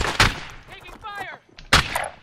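Gunfire in Call of Duty: Modern Warfare, two sharp loud shots about a second and a half apart with brief game radio chatter between them.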